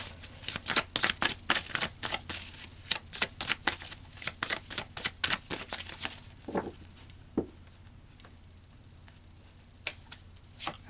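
Tarot cards being shuffled during a reading, a quick run of crisp riffling snaps for about six seconds, then a couple of soft thumps and near silence.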